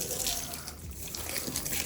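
Water poured while watering potted plants at home, a steady broadband splash and trickle running throughout at moderate level.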